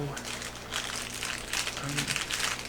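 A small plastic bag holding Harry Potter collectibles crinkles and rustles up close in soft, uneven bursts while a voice talks quietly alongside.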